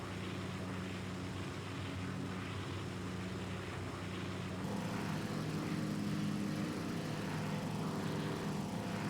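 A small airplane engine drones steadily in flight on a trip from Ripley, Tennessee to Shelby Forest, heard from inside the cabin as a constant, loud hum with no talking.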